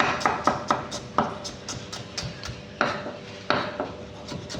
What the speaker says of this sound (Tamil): இது கூடவே இப்போ எடுத்து வச்சுருக்க சின்ன வெங்காயத்தையும் கட் பண்ணி எடுத்துப்போம்.